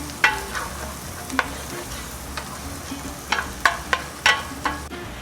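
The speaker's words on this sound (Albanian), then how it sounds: "Ta lëm dhe hudhrën të skuqet bashkë me qepën" Garlic and onion fry together in a pan, a steady soft sizzle broken by sharp scraping clicks from stirring, close and moderately loud, with no talk.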